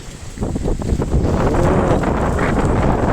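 Strong, gusty wind roars steadily through a bodhi tree ahead of a storm, a loud, continuous rushing blast with heavy microphone buffeting and no voices.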